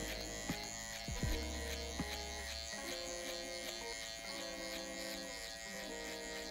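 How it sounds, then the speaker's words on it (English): An electric hair trimmer, flipped over and flicked against the hair to start a barbershop fade, buzzes steadily and up close throughout with a few brief knocks and handling taps, and no talking. "flip the trimmer over"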